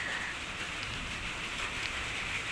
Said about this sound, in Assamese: বৰষুণ হৈ আছে দেই, বৰষুণৰ আৱাজটো আহিছে।